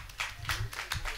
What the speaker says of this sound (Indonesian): Boleh tepuk tangan dulu teman-teman.